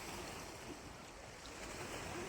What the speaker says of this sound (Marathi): लाटा सकाळ सकाळ लाटा बघा एकदम शांत वातावरणामध्ये लाटा दे